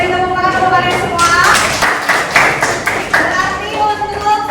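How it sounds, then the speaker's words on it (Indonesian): Children in a classroom clapping together in a burst of applause, uneven claps layered over excited chatter and voices, fairly close and loud. "beri tepuk tangan untuk kalian semua"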